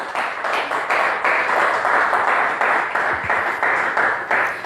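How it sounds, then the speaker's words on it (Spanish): Listeners applaud Pastor Edgardo at the close of a discussion gathering, a sustained rolling burst of clapping at fairly strong, even volume throughout. "Un aplauso para Edgardo"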